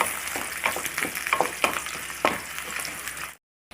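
Onions and curry leaves sauté in hot oil with a steady sizzling crackle, a spoon stirring and scraping the pan now and then, before cutting to silence.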